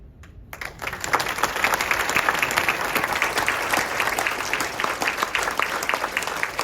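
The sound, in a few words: audience applause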